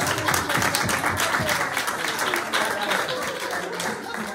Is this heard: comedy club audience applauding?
yes